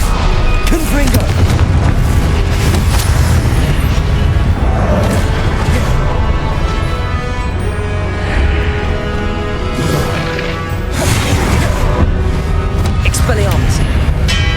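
Confringo explosive spells blast repeatedly in Hogwarts Legacy combat, making a continuous, loud, dense roar of booming impacts layered with shouted spell incantations and other battle noise.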